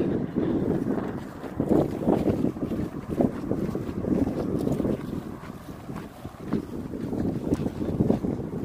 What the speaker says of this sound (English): Are you guys able to hear over the wind?